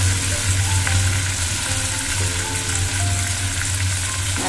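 Tomato paste and ginger paste fry in a pan with a dense, continuous sizzle and crackle, close and even in level for the whole stretch, with no voices.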